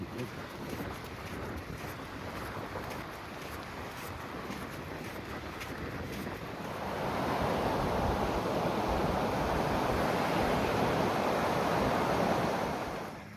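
Outdoor ambience beside the River Coquet near Warkworth: a steady wash of flowing water and breeze, constant and moderately loud, swelling fuller and brighter partway through, with faint talk at times.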